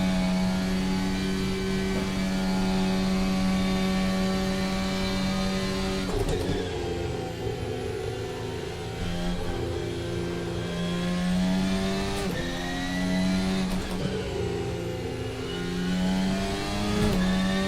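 VRC Formula Alpha race car engine in Assetto Corsa, a high-pitched harmonic scream held at high revs, dipping briefly at a few quick gear shifts before climbing again, continuous and alone.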